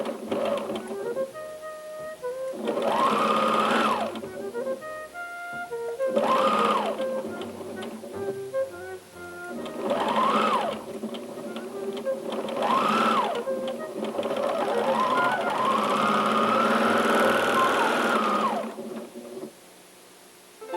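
A sewing machine stitches quilt pieces in repeated bursts of rapid whirring, each run lasting a second or two with short pauses between, the last one longer and steady.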